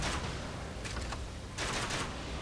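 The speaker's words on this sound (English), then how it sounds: "Just for shooting the enemy." Shooting at enemies in Elden Ring Nightreign, a few sharp bursts of gunfire-like cracks over a constant background rumble, fairly loud and close.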